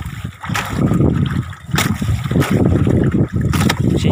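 A small fishing boat rocking on choppy sea off Negros, with repeated splashes of waves slapping the hull every second or so over a steady rush of water and wind, loud and close.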